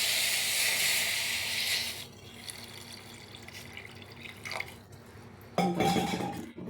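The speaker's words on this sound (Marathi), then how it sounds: "आता ह्याच्यामध्ये आपण पाणी ॲड करूया." Water is poured into a hot pan of jaggery while making ragi kheer, giving a loud hissing pour that fades into softer sizzling and bubbling, then a brief louder splash near the end.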